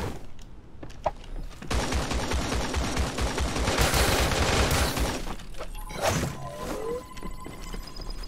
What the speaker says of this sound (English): What's that? That's an AK.